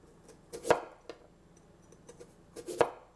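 A kitchen knife slices a potato into rounds on a cutting board, giving two sharp, close chops about two seconds apart with softer taps between them in a quiet room.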